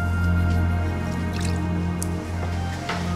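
A little water is poured and drips during cooking of a traditional Kerala village chicken curry. Soft wet drips and splashes come a few times over a steady background hum.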